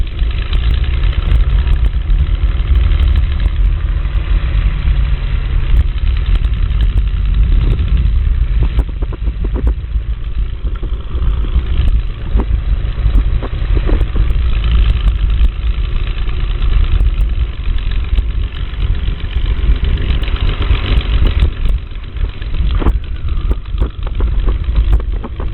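Spitfire aircraft engine idling and rumbling steadily as the plane taxis at Duxford, a loud continuous low drone with uneven throttle swells throughout, heard close from the cockpit.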